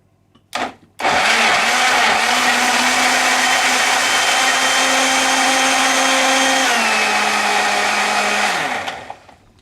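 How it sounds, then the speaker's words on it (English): A blender whirs continuously for about eight seconds while blending ginger tea, holding a steady loud motor drone after a brief start, with its pitch dropping slightly near the end before it winds down and stops. "Then you blend it."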